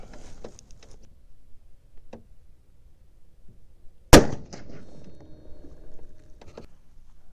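A single sharp, loud rifle shot from a T/C Compass .308 during load development with 168gr AMax bullets and Varget powder, a crack that rings out and decays over the following seconds, surrounded by faint quiet handling noise.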